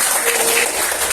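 Brief burst of classroom applause from students during an economics lesson, steady dense clapping filling the short moment without pause.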